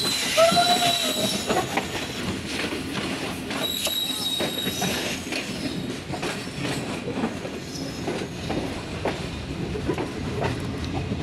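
Pakistan Express, the 46 Down service between Karachi and Rawalpindi, hauled by a G40 locomotive, passes close by near Kotri with a steady loud roar of rolling wagons, wheel clatter and brief high squeals throughout.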